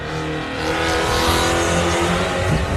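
Off-road race car number 585 driving at Loveday 4x4 Adventure Park during the Loveday 400, a steady loud engine roar holding throughout with a slight rise in intensity, no talking.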